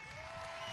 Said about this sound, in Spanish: vamos a darle un aplauso a Taret El Aissami